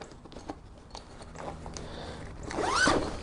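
A zipper on a robust canvas bag for a street tire changer is pulled open in one quick, close rasping stroke near the end, after a few faint handling clicks.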